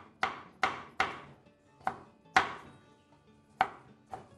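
Peppers being finely diced with a knife on a cutting board, a series of sharp, close knocks in an uneven rhythm, about eight strikes with short pauses between some, no voice over them.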